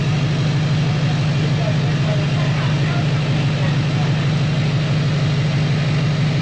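A Duramax LBZ diesel truck engine idles steadily just after cranking, a loud, even low-pitched rumble with a constant rhythmic clatter, close to the microphone and uninterrupted for the whole stretch.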